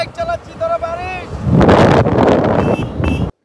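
Wind buffets the microphone while riding a scooter along the Marine Drive road at Cox's Bazar. A person speaks at the start, then loud, steady wind roar takes over for the rest of the ride.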